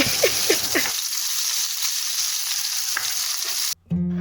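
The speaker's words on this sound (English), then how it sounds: "add some oil to a hot pan and add our marinated beef" Marinated beef frying in oil in a hot pan gives a close, steady sizzle with a few stirring scrapes at first, then a continuous hiss that cuts off abruptly near the end.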